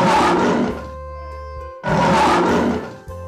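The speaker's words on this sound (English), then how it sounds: "This is a lion." A lion roars twice in long, loud, rasping bursts separated by a short pause, each roar trailing off into a low rumble.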